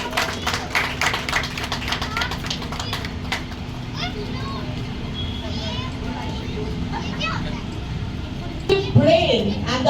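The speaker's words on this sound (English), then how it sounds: "Huge round of applause, please." At a school graduation day award ceremony, an audience claps for an award winner, a rapid patter of hands at the start that fades into a murmur of crowd noise and voices.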